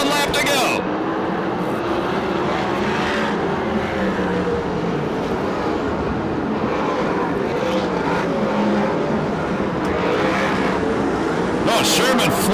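Sprint cars roar around an oval track at Perris, California on the last lap of a USAC/CRA sprint car race, a loud continuous wall of engine noise that swells and fades as cars pass, with a race announcer talking over it.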